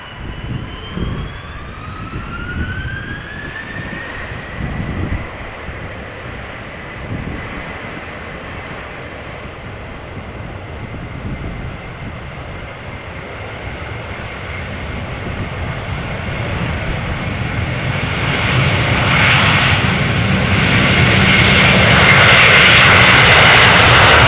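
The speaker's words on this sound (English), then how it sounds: "Delta Airlines flight 259, Airbus A330-300, this one outbound to Boston, 8 years old, first flight January 2015" A Delta Airlines Airbus A330-300 jet takes off from Amsterdam Schiphol, bound for Boston. The engine roar rises steadily from a loud rumble to a full, close, powerful thrust with a whining tone, and nobody speaks.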